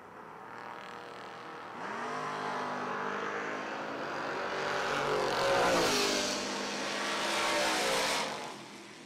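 Footbrake drag racers, a Mustang and an S10, launch and roar away, the engine noise swelling from quiet into a loud, sustained roar that rises and falls as the cars accelerate down the track.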